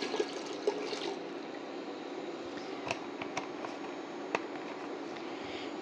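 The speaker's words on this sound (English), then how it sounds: "So I am going to put in the rest of this cranberry." Cranberry juice pours into a pan with a quiet, continuous liquid trickle and splash, fairly close and soft, holding steady for about six seconds with a few small clinks.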